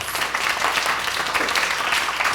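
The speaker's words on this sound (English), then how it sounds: "give our wonderful panelists a round of applause" An audience cheers its panelists at a community event on mental health with a full, loud round of applause, a dense crackle of many hands clapping steadily throughout.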